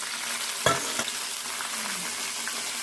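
Tomatoes, green chillies and coriander frying in a pan, a steady close sizzle with a couple of sharp clinks of stirring near the start.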